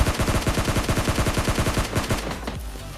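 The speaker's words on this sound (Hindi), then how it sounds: "रिवाइव करने की बजाय पता नहीं उन पे ही फायर कर रहा था" Rapid automatic gunfire in the mobile shooter PUBG Mobile Lite rattles out as one loud, continuous burst of closely spaced shots, easing off slightly near the end.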